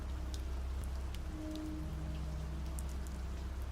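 Steady rain falls in a continuous, even wash of drops on surfaces, with no voices, plus a faint low hum beneath.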